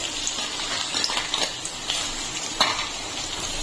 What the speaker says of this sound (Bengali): এখানে আমি অল্প করে তেল গরম বসিয়েছি এখন আমি এর ভিতরে দিয়ে দিচ্ছি পেঁয়াজ